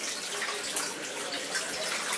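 Floodwater pours into a house in Topeka from a four-million-gallon flood, a continuous hissing, splashing rush of water running steadily and fairly near, with no speech over it.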